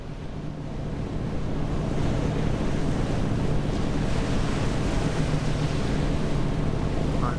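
A speedboat in the NAUTIS Home Ship Simulator game runs across the water near Sydney, with steady rushing surf and wind noise holding loud and constant throughout, with no talking.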